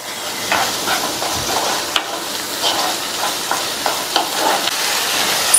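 Onion-tomato masala with coriander powder, garam masala and salt sizzles and sautés steadily in a pan, a continuous close frying hiss with occasional stirring scrapes and soft crackles, no voices.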